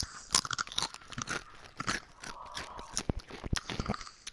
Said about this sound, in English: The chewing is real.